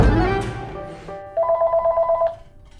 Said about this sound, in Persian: نازنین جان تلفن.